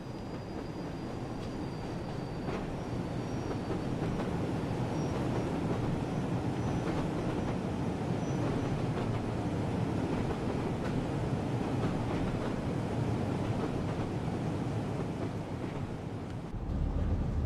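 A train rolls past in a flyby view in Train Sim World on the West Somerset Railway, a steady wind-like rumble of wheels and engine that holds at moderate level throughout, with no talking.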